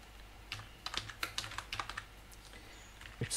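Computer keyboard keys clatter in quick irregular bursts as code is typed, a steady run of close clicks with brief pauses and no talking.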